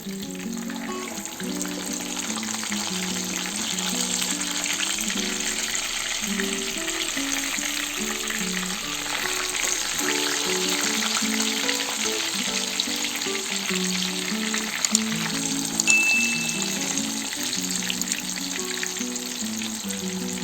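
King fish (vanjaram) coated in masala shallow-frying in a pan, a steady dense sizzle running unbroken throughout at close range, with no voices.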